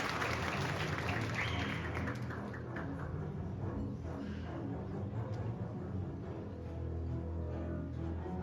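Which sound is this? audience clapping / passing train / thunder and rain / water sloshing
audience clapping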